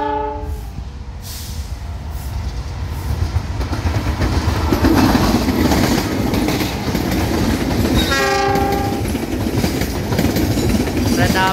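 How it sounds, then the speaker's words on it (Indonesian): The Lodaya passenger train passes a level crossing in Indonesia, loud and close, with a steady rumble and clatter of wheels on rails throughout and a horn sounding briefly near the start and again toward the end. "Kereta api Lodaya."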